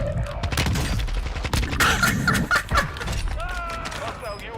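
Dense video game firefight with rapid gunfire and booming shots layered over a squad battle, loud and continuous, with radio-style voices talking over the combat.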